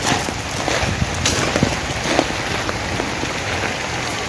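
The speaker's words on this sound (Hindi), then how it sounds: "क्या मौसम है, क्या बारिश है" Steady heavy rain pours down nearby in a village, with scattered drops pattering loudly on surfaces and a constant hiss throughout.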